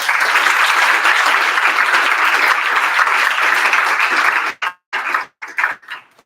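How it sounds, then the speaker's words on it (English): An audience at a one-year anniversary celebration applauds in a steady, dense burst of clapping for over four seconds, then it stops abruptly and a few scattered claps and sounds follow. "maybe we can give them another round of applause, please."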